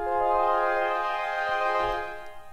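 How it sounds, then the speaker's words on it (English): A sustained microtuned synthesizer chord with many stacked tones, slightly detuned against each other, holding steady for a couple of seconds before fading. "I can essentially play chords that are microtuned away from each other"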